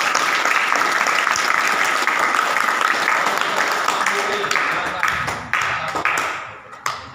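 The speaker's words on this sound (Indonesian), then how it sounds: "Tepuk tangan dulu." Audience applause at a student leadership training session at an Islamic boarding school, a loud, dense clapping from a crowd that thins toward the end, with a few sharp individual claps standing out.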